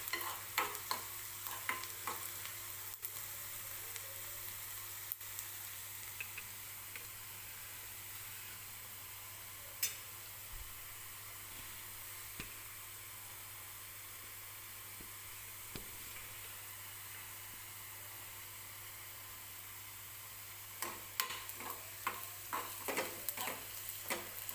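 Onion frying in oil in a pan, a steady low sizzle and hiss running throughout with occasional soft stirring clicks and scrapes, quiet and close, with a brief flurry of stirring taps near the end.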